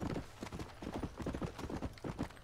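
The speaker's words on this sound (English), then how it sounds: "Shall we ride horses?" Horse hooves clip-clop in a steady, quick rhythm from a video game, with close, fairly loud repeated hoof strikes and no talking.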